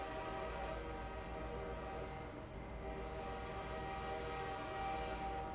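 A train in a video game rumbles steadily and faintly, with a sustained horn-like tone over the continuous low mechanical drone and no break in the sound.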